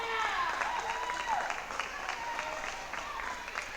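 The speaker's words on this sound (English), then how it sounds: "The crowd trying to put a little bit of life back into their team as the visiting team's crowd" The visiting team's crowd applauds and cheers at a volleyball match, a dense, steady wash of clapping and voices heard from a distance under a commentator's talk.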